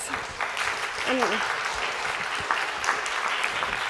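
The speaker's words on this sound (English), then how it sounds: "give a round of applause to all of the people who really made it possible for us to be here" Audience at a 2016 Silicon Valley Boomer Venture Summit business plan award presentation gives a steady round of applause that fills the whole stretch. A brief voice cuts in partway through.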